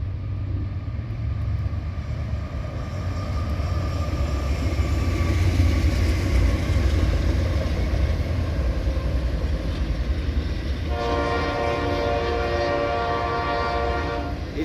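A Norfolk Southern train rumbles past near the bridges in Elyria, Ohio, a heavy continuous roar with a loud horn blast sounding in the final few seconds over the passing cars.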